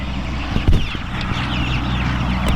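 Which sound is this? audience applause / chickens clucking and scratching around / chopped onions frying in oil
chickens clucking and scratching around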